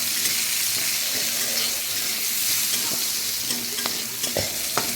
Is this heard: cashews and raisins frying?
yes